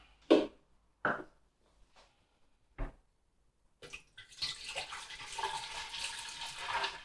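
Water sloshes inside a Pinter brewing keg as it is shaken: a few isolated knocks and taps first, then a sustained, close churning slosh that continues to the end.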